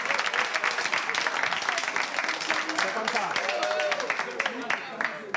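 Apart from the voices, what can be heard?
audience applause on a French game show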